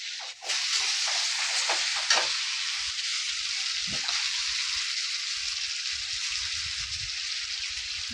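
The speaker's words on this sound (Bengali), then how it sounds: "সেই পেস্টটা আমি এখন এর মধ্যে দিয়ে দেব" Tomato, onion and cashew paste hits a hot pan of drumstick vegetable curry, bursting into a loud, steady sizzle with a sharp crackle at the start and a brief spike midway, continuing without pause and with no talking.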